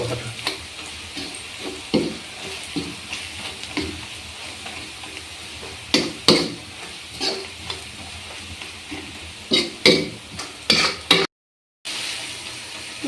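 Garlic chilli powder fries in a pan with a constant soft sizzle, punctuated by sharp clinks and scrapes from stirring that come in quick clusters, close by, with a brief silent gap near the end.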